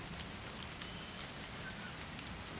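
Rain falls steadily outdoors, a soft, even patter of drops on surfaces that hisses continuously at low level, with no speech.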